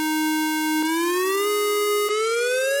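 A dry, unprocessed synth lead holds a bright buzzy sawtooth note, then glides upward in two smooth portamento steps, loud, sustained and alone with no voices.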